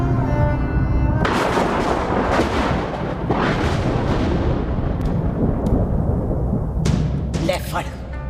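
Gunshots ring out in a dramatic Hindi-dubbed South Indian action movie scene. Several loud, sharp bursts come in an irregular sequence, booming over a sustained music bed with a heavy, thunder-like rumble.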